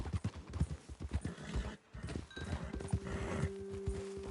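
Horses in Red Dead Redemption 2 clop along at a walk with rhythmic hoofbeats, then slow and stop as one gives a short whinny, close and clear.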